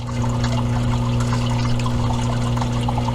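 Aquarium water flows through a siphon and a Sicce DC pump in a steady, continuous trickling rush with a constant low hum beneath, close and unbroken.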